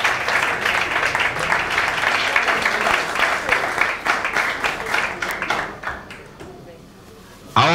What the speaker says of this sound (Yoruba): ẹ jẹ́ pàtẹ́wọ́ fún un